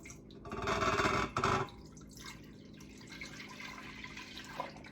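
A quart of cold milk pours into a container, a close, steady gushing splash lasting a little over a second before fading into quieter trickling and faint dripping.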